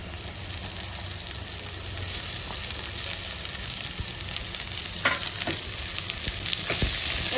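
Chopped onions sizzle in a pan over already-fried ginger and garlic while cooking for a Kolkata-style egg chop, a steady dense crackle with a few sharper pops and stirring bursts toward the end.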